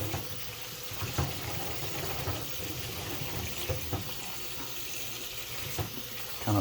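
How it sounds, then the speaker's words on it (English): Cold tap water runs steadily into a sink to rinse cooked spaghetti noodles, a close, continuous splashing rush with small fluctuations throughout. "I'm trying to wash off some of that starch as well."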